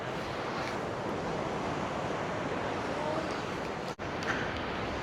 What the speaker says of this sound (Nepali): ल तल समुद्रको छाल यसरी उर्लिराखेको छ।